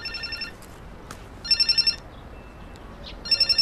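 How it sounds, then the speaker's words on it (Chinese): A telephone rings in three short bursts of rapid trilling electronic tones, each burst separated by a pause, close by and clear over a quiet indoor background. "接个电话。"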